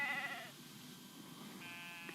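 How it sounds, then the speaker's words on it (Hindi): Sheep bleat as they are herded down a hill, with two faint wavering calls at the start and end over quiet background noise. "ये हमारी भेड़ें पहाड़ी के नीचे हाँक रहा था"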